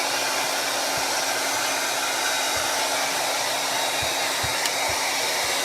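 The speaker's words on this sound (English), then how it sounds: "in using a hair dryer, be sure that you don't keep it on hot, you keep it on warm" Hair dryer running on a warm setting while drying a Yorkie after a bath, a steady airy whoosh held throughout with faint low bumps and handling sounds underneath, no talking.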